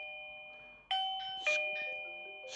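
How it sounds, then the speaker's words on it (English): An AOSU Video Doorbell Ultra chime sounds indoors: a sustained electronic tone, then two bright chiming strikes ringing out in succession with lingering decay, close and clean without any voices. "Press the doorbell."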